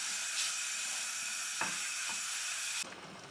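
A pot of spaghetti boils uncovered in chicken stock, giving a steady close hiss and bubbling sizzle with a couple of faint clicks before the sound cuts off near the end.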